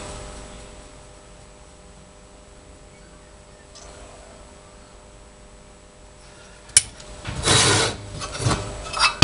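A brush sweeps parting agent off a sand casting pattern, heard as a short rough scrubbing and rasping burst near the end after a long stretch of quiet background hum.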